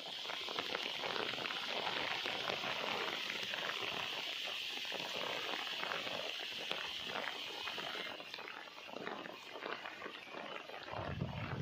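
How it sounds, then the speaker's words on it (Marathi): Steady rain falling outdoors, a dense continuous hiss of drops on surfaces lasting the whole stretch, fairly loud and even with no voices. "जरा पाऊस आलाय"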